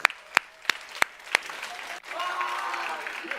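Several sharp, spaced claps ring out close by, then a broader burst of crowd applause from a high school youth Sunday service audience in a church.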